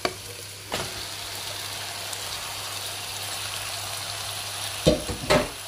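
Frying and stirring in a pan while onions and spices cook down for Jaffna-style Sri Lankan mutton curry, a steady soft sizzle with a few louder scraping stir strokes near the start and end.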